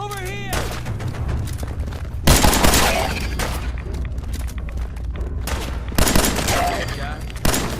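Rapid gunfire bursts and booming shots from combat in Fallout 4, loud and dense throughout, with shouted voices mixed in among the shooting.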